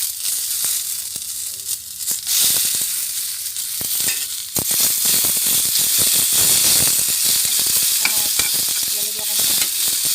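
Chopped tomatoes hit a hot pan of browned, slightly burnt garlic and sizzle steadily, with scraping and clattering spatula strokes through the frying.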